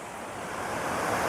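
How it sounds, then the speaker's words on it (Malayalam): Water pours steadily down from a dam on the Valparai route, a broad continuous rushing roar that swells slightly louder toward the end, heard alone without voices. "ഈ വെള്ളം ഇങ്ങനെ താഴോട്ട് ഒഴുകി"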